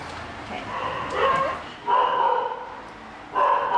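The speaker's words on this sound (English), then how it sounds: "Dog's back there." A dog barks and yips in short bursts from somewhere in a home, moderately close, with children and adults talking around it.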